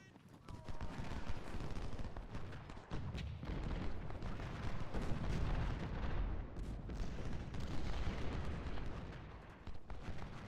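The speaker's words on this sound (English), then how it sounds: "Taking artillery fire" Artillery fire in the Civil War strategy game Ultimate General: Civil War at the Battle of Cold Harbor, a dense, continuous rumble of cannon booms and crackling musketry, loud and sustained, with a voice speaking faintly beneath.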